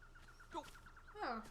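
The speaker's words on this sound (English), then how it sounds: "Let's hear the birds singing." Birdsong in the video game The Legend of Zelda: Skyward Sword HD, a quiet outdoor scene with a short, steady series of chirps and a louder, richer call near the end, all fairly faint.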